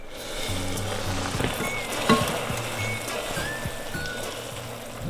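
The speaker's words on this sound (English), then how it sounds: "Now we're going to stir that in." A sugary candy mixture being stirred in a pot, heard as a steady wet, bubbling hiss with occasional soft scrapes and clinks, while a low background hum and faint voices sit underneath.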